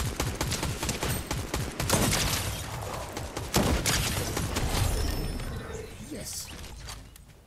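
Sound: gunfire at the player in the video game Fortnite

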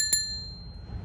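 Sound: bell on a Yamaha electric bicycle ringing

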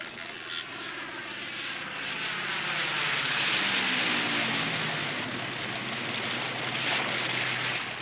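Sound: airplanes circling overhead

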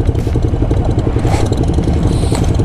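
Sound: Ducati Diavel motorcycle engine riding on dirt

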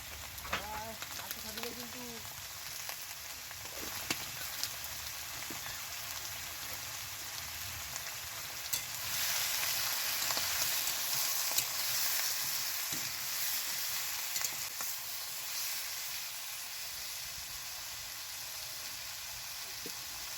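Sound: tomatoes frying in oil with salt and turmeric

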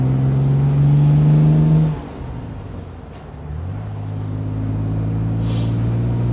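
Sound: 1967 Aston Martin DB6 Volante accelerating through the gears

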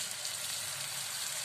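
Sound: tomatoes added to frying ginger-garlic paste, sizzling

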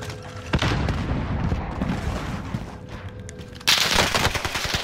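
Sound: gunfire in Call of Duty Warzone video game

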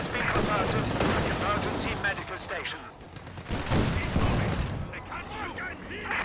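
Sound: Stuart tank gunfire in Company of Heroes 2 video game

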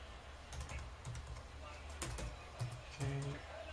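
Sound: typing on a computer keyboard

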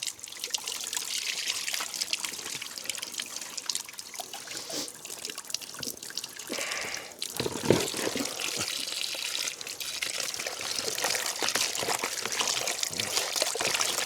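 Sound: pouring water to rinse fish

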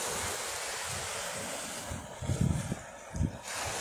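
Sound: sea waves breaking on rocky shore

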